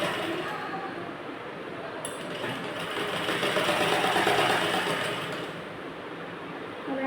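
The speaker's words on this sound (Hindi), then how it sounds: "और यहाँ से आगे की तरफ सिलाई लगाते हुए लाइन को हम कंप्लीट करेंगे" A sewing machine stitches piping onto a blouse in a continuous rapid mechanical whir that swells a little in the middle, close and alone without voices.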